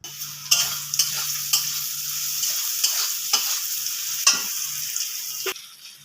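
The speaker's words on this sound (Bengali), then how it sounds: "গাজর হালকা ভাজা হয়ে গেছে" Carrots fry in a pan at home and are stirred repeatedly, with a soft steady sizzle under a series of scraping strokes spaced about a second apart, close by and with no talking.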